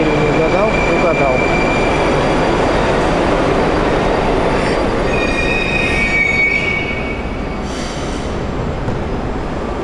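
A modern Moscow metro train running, with loud continuous rumbling wheel and rail noise and high wheel squeals throughout, heard from inside the carriage.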